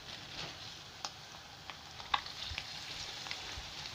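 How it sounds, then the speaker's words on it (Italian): Sardine fillets fry in plenty of hot sunflower oil in a pan, giving a quiet, even sizzle with a few small pops and crackles. "In una padella aggiungo abbondante olio di semi di girasole per friggere le mie sardine"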